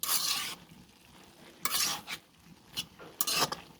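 Green beans and potatoes sautéed in a pan, with several short bursts of a spatula scraping and stirring over a light sizzle, each separated by quieter pauses.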